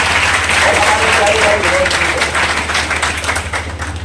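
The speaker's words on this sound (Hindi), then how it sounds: "एक बार जोरदार तालियां इसके लिए।" Hearty audience applause at a poetry gathering held in memory of a philanthropist in Udaipur, steady and moderately loud, with a low steady hum running underneath.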